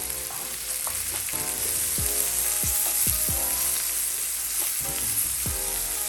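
Burgers, potatoes and onions sizzle and fry steadily on a hot indoor grill, with a few scraping stirs of a utensil breaking through the constant hiss.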